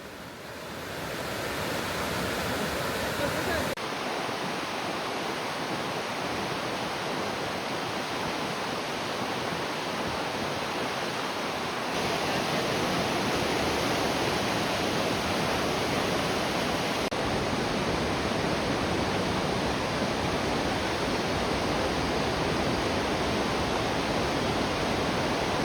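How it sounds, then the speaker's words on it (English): Powerful twin waterfalls, two streams plunging down cliffs in East Hokkaido, give a loud, steady, unbroken roar of rushing water that continues unchanged throughout, with no voices. "visit the powerful Ruse and Jinga waterfalls, where two streams plunge dramatically down the cliffs"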